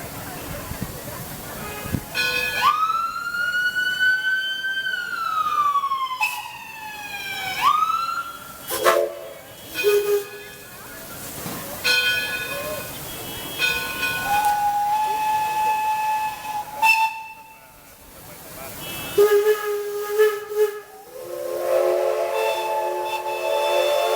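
Steam locomotive Edison departing Smith's Creek at Greenfield Village, trading whistle calls with other locomotives; several long, chime-like steam whistle blasts of varying pitch, some sliding, sound one after another at moderate distance over outdoor ambience.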